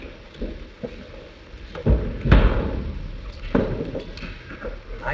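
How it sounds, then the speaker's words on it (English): A courtroom jury-room door is slammed shut with a heavy thud and then bolted, a few sharp knocks and clunks spread over several seconds in a 1954 live television drama of Twelve Angry Men, with no talk. "I never knew they locked the door."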